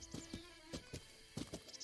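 Hooves of a blue horse clip-clop in The Legend of Zelda: Breath of the Wild, a steady trotting rhythm of distinct thuds, moderately close and alone without talk.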